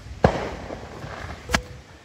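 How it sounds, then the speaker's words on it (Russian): Two fireworks bangs outdoors in a residential neighbourhood on a windy evening, a sharp report near the start and another about a second later, moderately loud against a low breezy background. "Давайте посмотрим быстренько на фейерверк."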